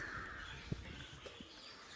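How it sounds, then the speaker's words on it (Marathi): Near a temple entrance, a few crows caw, with one clear nearby call and some fainter ones, against a quiet outdoor background. "फक्त पक्ष्यांचे आवाज आहे, चिमण्यांचे आवाज आहे"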